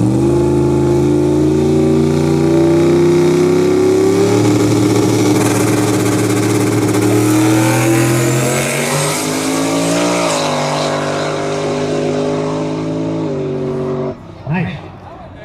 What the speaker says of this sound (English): Mustang's going to make a single tear in here.